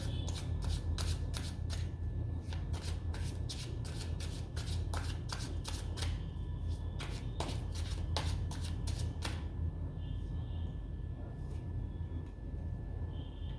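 Tarot cards being shuffled by hand in a quiet room, a long run of quick crisp riffling flutters in a steady rhythm that stops partway, then faint soft handling noise.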